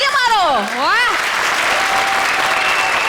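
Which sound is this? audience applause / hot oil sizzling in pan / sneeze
audience applause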